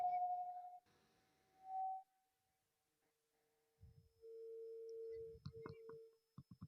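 A quiet electronic phone tone sounds in steady beeps with gaps, followed by a soft buzzing ring under brief murmurs.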